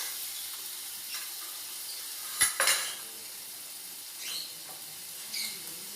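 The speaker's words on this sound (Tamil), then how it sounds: "இஞ்சி பூண்டு விழுது போடுறோம்" Ginger garlic paste frying in a pan for crab chops, with a constant high sizzle and a couple of sharp spoon scrapes against the pan, close and moderately loud.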